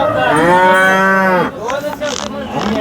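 A cow moos loudly and close by at a cattle market in Sangola, a long drawn-out low call followed by a shorter, rougher second moo.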